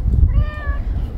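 A single cat gives a clear, fairly close meow lasting about half a second over low background rumble.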